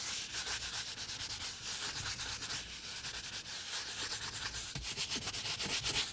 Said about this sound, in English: we're going to grab the dilution bottle and scrub the headrest